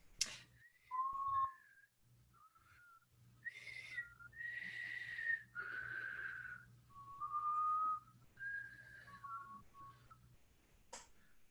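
A prisoner character in a video game whistles a slow, wavering tune of sustained notes and slides, faint and somewhat distant, over a low steady hum.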